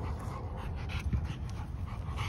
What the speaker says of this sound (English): He's a good family dog